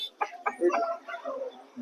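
A healthy rooster for sale at a Vijayawada poultry market gives a few short, close clucks, with market chatter around it.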